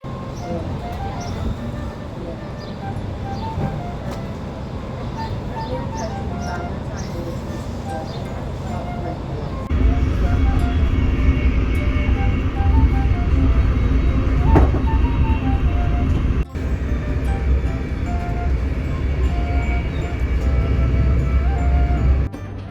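A tram rumbles steadily while riding, with a louder, heavier roll in the second half and an onboard voice announcing over the running noise.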